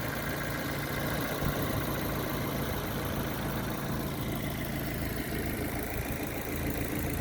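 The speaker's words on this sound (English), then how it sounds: "big 1600 Sigma engine" A 2011 Morgan 4/4 Sport with a 1600 Sigma engine idles steadily, a low continuous even drone with a faint hiss, no voices.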